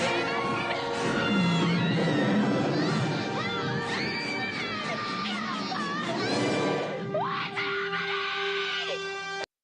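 Screaming in an 80s movie trailer: shrill, wavering cries and wails layered over dramatic music and crashing effects, loud and continuous throughout.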